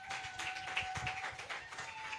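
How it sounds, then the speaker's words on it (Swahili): A church congregation applauds after a sermon with faint, scattered hand claps in an uneven rhythm, heard from a distance against a quiet room hum. "Jamani, makofi mengi kwa Bwana Yesu."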